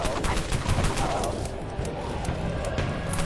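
SMG gunfire in the Dead Frontier video game during an outpost attack event: a dense, continuous rattle of rapid shots fills the whole moment, loud and steady.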